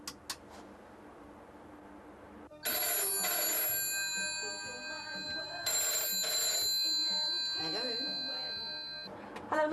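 A telephone rings in a public phone box at a station, its bright electronic trill sounding in two long near bursts with a short gap between, loud and steady against faint room noise.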